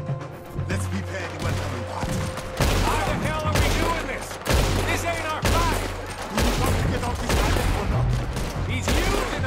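Rapid bursts of gunfire crackle through a shootout in the Western video game Red Dead Redemption 2, shots rattling almost continuously under booming music and shouted voices throughout.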